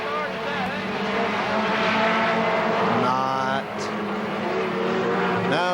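Race cars roaring away at the green flag at Kil Kare Speedway, a loud engine drone rising and shifting as the cars accelerate past, with an announcer talking over the noise throughout.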